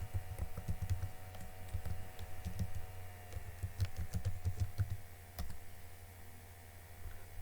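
Keystrokes on a computer keyboard as a username is entered at a sign-in prompt, a steady run of light clicks over a low constant hum, pausing briefly near the end.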